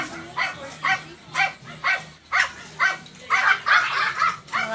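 Several dogs at a home bark in a steady run of about a dozen sharp, loud woofs close by, with overlapping yips and barks crowding together near the end.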